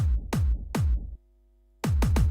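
Electronic kick drum from a dance remix, hitting in a steady series of punchy, deep booms, three strikes, a short gap of near silence, then three more in quicker succession, loud and alone.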